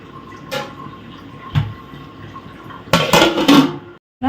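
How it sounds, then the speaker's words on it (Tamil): A pot of chana masala gets its lid: a few sharp metallic clinks and knocks, then a louder cluster of clattering as the lid settles, ending in a brief silence and a final clank. "நம்ம இப்போ இதை மூடி வச்சிடலாம்"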